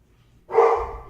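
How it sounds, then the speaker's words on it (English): A single dog bark rings out at a distance, one short muffled woof after near silence. "Sounds like the dog's in the house now."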